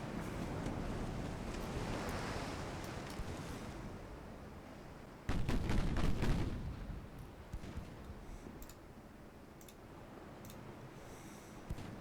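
Naval gunfire in a Great Game campaign video game battle as Portugal, a sudden loud blast with rumbling echoes midway through, set against steady wind and sea-like ambience with scattered sharper reports.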